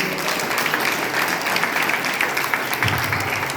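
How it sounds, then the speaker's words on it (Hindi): Steady applause from a crowd at a religious gathering, dense clapping that holds evenly throughout at a fairly loud level. "ताली बजाएं परमेश्वर की।"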